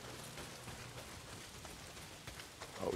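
Steady rain falls in the Days Gone video game, an even wash of patter that continues throughout at moderate level with no voices.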